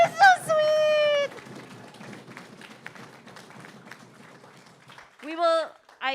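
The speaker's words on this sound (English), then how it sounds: "one more round of applause for Tarek and Joe" Applause for performers Tarek and Joe at a summer intensive showing, a soft, scattered patter of claps heard mid-distance, framed by loud cheering and excited voices at the start and end.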